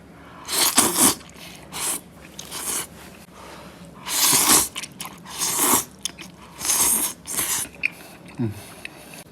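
People eating noodles mixed with a homemade spicy beef sauce: loud, close bursts of slurping and chewing come in repeated waves, with some talk in between.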